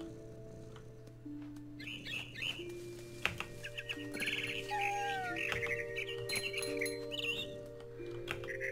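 Bird chirps and tweets from the bird being chased in the game What Remains of Edith Finch, a series of short high calls and whistles over a steady game music drone, with some clicks and light rustling mixed in.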